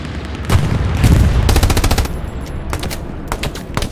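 WW2 machine guns such as the MG34, MG42 and M1919 Browning fire in Hell Let Loose, with rapid bursts of loud, close gunfire repeating in several strings, and no talk over them.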